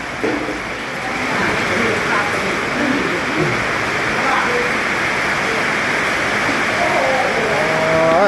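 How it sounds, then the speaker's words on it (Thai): Steady, dense hiss of rain falling throughout, with some faint voices and a brief rising tone near the end underneath. "ฝนตกฝนตกแน่เนาะ"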